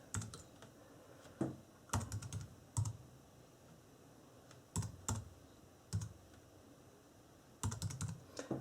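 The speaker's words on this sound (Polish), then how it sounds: "Klikamy Enter." Short bursts of keystrokes on a computer keyboard as a fastboot command is typed, clicks spaced out across the clip, close and fairly quiet in a still room.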